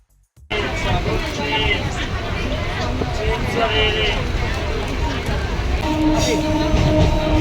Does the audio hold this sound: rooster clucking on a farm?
no